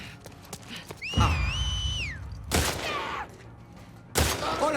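Gunfire in The Last of Us Part II game: loud sharp shots burst out amid sparse clicks and a whistling, wavering tone, with impacts spaced across the clip.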